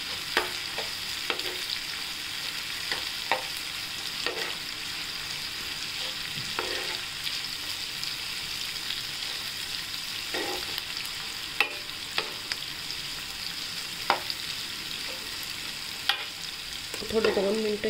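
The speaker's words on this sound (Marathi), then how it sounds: "आता आपण छान कांदा त्याचा कच्चेपणा जाईपर्यंत परतून घेऊया." Onion frying in a pan with steady sizzling throughout, punctuated by repeated scrapes and knocks of a spoon stirring at irregular intervals, close and moderately loud with no talking.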